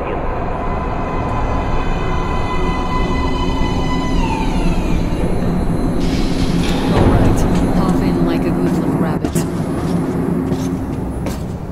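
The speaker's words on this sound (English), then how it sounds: "Train coming in." A metro train pulls into an underground station platform in the video game Metro Last Light, a loud rumbling approach with screeching metallic tones and sharp clanks as it arrives, layered over a droning background.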